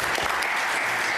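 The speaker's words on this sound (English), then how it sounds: "Surprised anybody would clap for that." Brief burst of applause in a Senate chamber, a dense patter of many hands clapping at once, fairly faint and steady for about a second with no voices over it.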